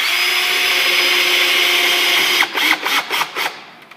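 A power driver with a Robertson bit drives a screw into a countersunk hole, a loud steady whine, then a few stuttering bursts as the screw seats and the motor winds down.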